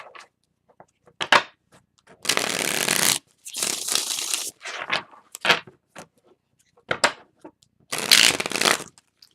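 Tarot cards are shuffled in several bursts of riffling, with soft taps and handling sounds between them, close and fairly quiet.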